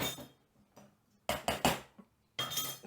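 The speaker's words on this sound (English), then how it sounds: "set my spoon aside." A metal spoon is set down on a hard kitchen surface beside a pot of homemade Sriracha-style chili sauce, giving a few sharp, close clinks in a quick cluster, then a louder ringing clatter of cutlery and dishes near the end.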